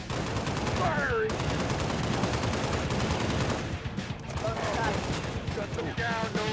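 Sustained gunfire in the Halo Reach video game, dense rapid bursts of automatic fire filling the scene with a brief lull near the middle, loud and continuous, with faint voices mixed beneath the shooting.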